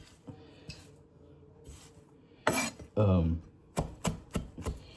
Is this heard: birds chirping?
no